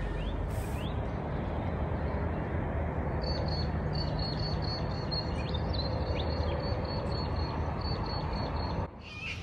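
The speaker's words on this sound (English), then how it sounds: "Listen to all those birds." Morning birdsong at a holiday park in Wodonga, Australia, with repeated high chirps and calls against a steady background of outdoor noise, the birds moderately distant.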